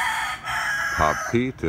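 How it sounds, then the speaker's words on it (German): Roosters and hens roosting in trees near an international airport in French Polynesia; a rooster crows in stretched, harmonic bursts toward the end, after a short spoken word over steady background hum. "wie man hört, auch hier in den Bäumen leben die Hähne und Hühner"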